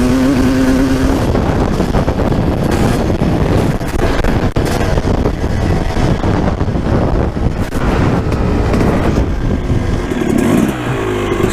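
A 250cc two-stroke dirt bike ridden hard, its engine a constant loud buzz under heavy wind buffeting on the microphone, with no talking.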